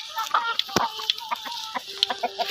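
Chickens clucking close by in a series of short, sharp, irregular calls over quiet farmyard background.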